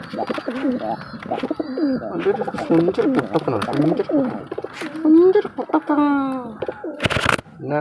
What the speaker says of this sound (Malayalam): വേറൊരു ചെങ്ങായിൻ്റെ പ്രാവ് ഇവിടെ വെച്ചതാണ്